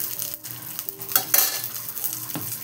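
Chopped bottle gourd lands in hot oil with dry curry leaves, mustard seeds and dried chillies. It sizzles and spits loudly up close while a utensil scrapes and stirs the pan, and no one speaks.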